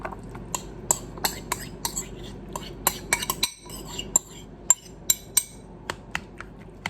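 Mixed tuna is spooned into a food container in a kitchen, with a series of sharp clinks and taps of utensil against the container, irregularly spaced and fairly close.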